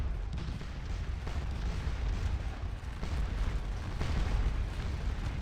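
Artillery firing in the Civil War video game Scourge of War, a dense continuous rumble of distant cannon fire and battle noise, low and heavy with no distinct single shots, and no talking.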